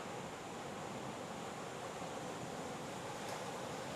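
Steady roar of typhoon-driven ocean surf on a Philippine shore, heard from a distance as a constant wash of broadband noise without distinct individual breakers or any voices.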